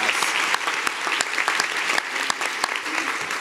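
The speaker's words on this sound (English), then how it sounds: "Let's give the panelists a big round of applause today." An audience claps for panelists in a dense, sustained burst of applause, loud and even, with individual sharp claps standing out through the steady patter.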